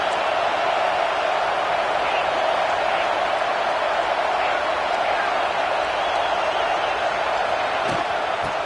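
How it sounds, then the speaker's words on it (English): Stadium crowd in the College Football 26 video game roars steadily during a red zone defensive stand, a constant broad wash of noise with faint commentary under it. "And here comes the noise. This crowd is trying to inspire this defense to make a big red zone stop."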